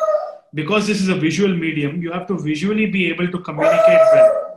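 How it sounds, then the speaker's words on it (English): A dog barks and yips in the background of an interview, partly masked by someone speaking steadily over it. "That's my dog."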